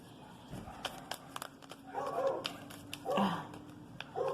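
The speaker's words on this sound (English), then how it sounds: "dogs in the neighborhood are going crazy" Several neighborhood dogs bark in short, scattered bursts at a moderate distance, heard through an open window, with louder yapping clusters midway and a few faint voices in between.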